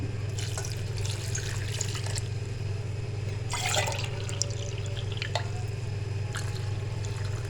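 Two cups of water are poured over tamarind and apricots in a kitchen, making a steady splashing stream with faint drips. The pour is close and constant, with a low hum beneath it and no talking.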